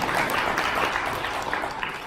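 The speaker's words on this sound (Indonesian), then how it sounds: "Tepuk tangan untuk modal pertama." A seminar audience at a scout university event in East Java claps in a brief, dense burst that stays steady and moderately loud throughout.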